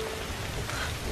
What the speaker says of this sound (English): This rain scene is everything to me.